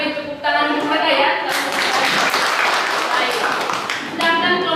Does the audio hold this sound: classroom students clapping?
yes